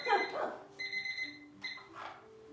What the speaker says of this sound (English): Stay there through the beeping timer.